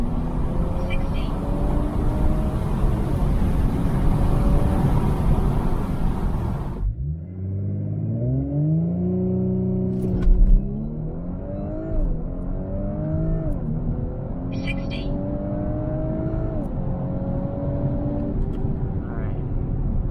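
An Audi B9 S4 running an Integrated Engineering stage 1 tune launches hard on a street run, its engine note rising loudly through successive gears with sharp drops at each shift, and a brief quieter pause early on.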